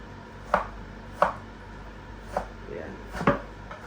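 A fish head is chopped for cooking with a heavy blade on a board, giving four separate knock-like chops at uneven intervals over a low, steady background.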